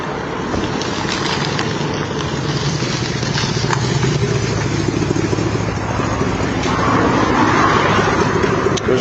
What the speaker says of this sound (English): It's just kind of loud. I got an exhaust leak.